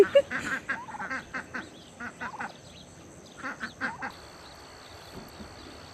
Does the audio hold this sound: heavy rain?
no